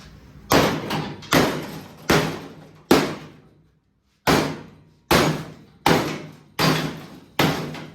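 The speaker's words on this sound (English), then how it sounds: "Now I'm gonna get the big old hammer and smack that thing out of here." Heavy hammer blows strike a metal quarter panel on a 1969 Firebird convertible repeatedly, about nine sharp ringing bangs with a brief pause midway, loud and close.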